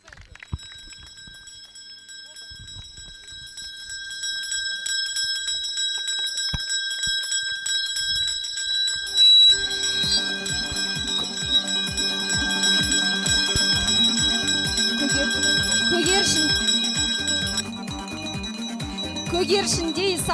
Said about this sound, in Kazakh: Бұл соңғы қоңырау үні